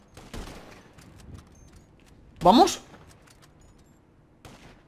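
Gunfire in GTA V Online, PS4 avalanche minigame in the snow: a short, loud rapid burst of shots midway, with a voice talking briefly before it.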